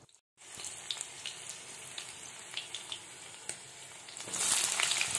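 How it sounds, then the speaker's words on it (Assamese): Two green chillies frying in hot mustard oil in a wok on a gas stove, a close, steady sizzle with crackling pops that swells louder toward the end. "গেছত কেৰাহী পাতি এতিয়া মই তাত মিঠাতেল গৰম হ'বলৈ দিছোঁ আৰু তাত 2টা কেঁচা জলকীয়া দি দিছোঁ।"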